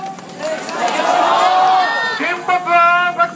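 Crowd gathering at an anti-nuclear protest in Tokyo, a steady murmur of many voices and street noise with a few louder shouts near the end, heard close and continuous.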